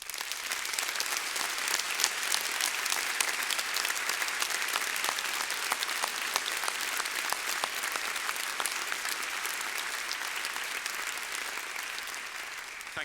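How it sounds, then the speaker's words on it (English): A large audience applauds at a Monash University graduation ceremony, with continuous, full clapping that holds steady and loud for several seconds, then eases off slightly toward the end. Crisp individual claps stand out within the wash. "I would ask you now to take this opportunity to show them your appreciation by a round of applause."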